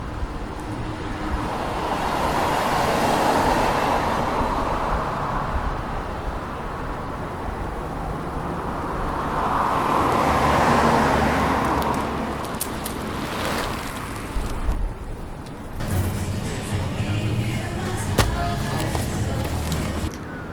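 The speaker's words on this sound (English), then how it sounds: "Now let's listen to some traffic going past" Road traffic passing in both directions, a car swelling and fading around 3 seconds and another around 10, over steady roadway rumble and some wind buffeting near the microphone.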